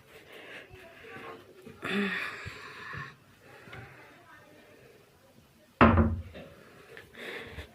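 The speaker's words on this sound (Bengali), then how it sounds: "দাঁড়ান, দরজাটা বন্ধ করি।" A door bangs shut once in a single sharp, close thud, after a quiet room with soft shuffling and breathing.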